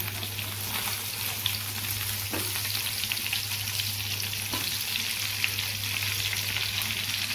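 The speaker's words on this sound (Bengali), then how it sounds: "তারপর ডুমু ডুমু করে কেটে রাখা আলুগুলোকে তেলের মধ্যে দিয়ে দিতে হবে।" Diced potatoes fry in hot oil with a close, steady sizzle, a constant crackling hiss with a couple of sharp stirring clicks, and no talk over it.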